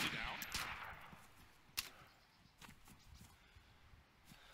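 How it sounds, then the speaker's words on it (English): Gunfire in the survival video game DayZ, a few sharp distant shots and short bursts spread over quiet background noise, fairly faint. "That was such terrible shooting."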